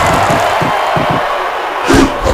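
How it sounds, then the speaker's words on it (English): A WWE wrestling video game crowd roars and cheers in an arena setting, with a thumping impact near the end and a loud continuous crowd wash throughout. "And the crowd is on their feet here in the Toyota Center here in Houston."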